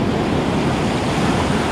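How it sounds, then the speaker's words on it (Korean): Rough sea surf hitting a rocky shore fishing spot in Korea makes a loud, steady, close roar of churning water, mixed with wind buffeting and no talking. "파도가 조금만 죽어줬으면 좋겠는데 파도는 전혀 죽을 생각이 없네요"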